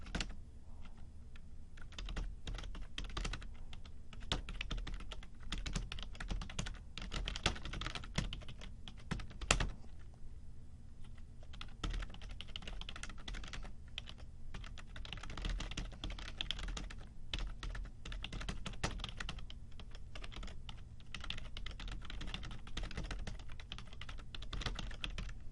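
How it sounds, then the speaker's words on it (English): Continuous typing on a computer keyboard, quick irregular key clicks with occasional heavier strokes like a space bar or enter key, close and fairly quiet, with no one talking. "I'll be quiet while I type for a second here"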